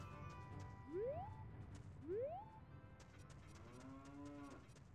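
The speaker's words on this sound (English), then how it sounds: "It has a rock that goes moo." A rock in Ocarina of Time lets out cow moos when struck, two rising bellowing calls about a second apart, followed by a longer lower moo, all set against a faint game ambience.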